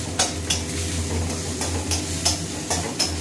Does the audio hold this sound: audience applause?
no